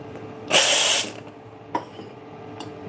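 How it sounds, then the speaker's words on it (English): An espresso machine's steam wand gives a single loud half-second hiss of steam, followed by quieter clicks and a faint background. "Right, so now let's steam the milk."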